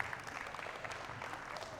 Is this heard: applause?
yes